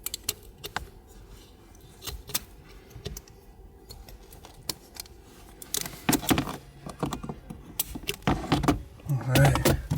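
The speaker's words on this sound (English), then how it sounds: "I'm gonna put the snap ring on and try and shift through the gears." Metallic clicks and clunks come from an R34 Skyline transmission as it is shifted through the gears on the bench, sparse at first and then growing busier and louder.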